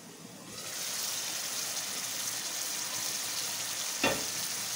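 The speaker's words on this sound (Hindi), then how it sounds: "मिक्स कर लेंगे और इधर भून लेंगे, आग में थोड़ी सी तेज़ कर दूँगी" Chicken liver frying over raised heat in a pan, a steady close sizzle throughout with a brief clatter of stirring partway through.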